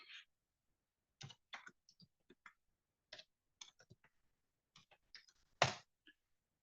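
Keys clack on an unfamiliar computer keyboard in scattered short bursts, quiet and close in an otherwise silent room, with no talking.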